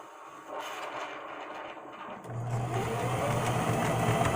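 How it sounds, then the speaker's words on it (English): A motorboat engine drones in the background, rising to a louder, steady low hum partway through. "While you listen to my buddy Rocco in the background on his boat"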